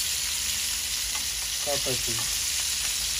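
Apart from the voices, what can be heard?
rui fish frying in oil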